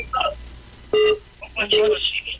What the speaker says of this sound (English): Quickly, the call's coming in.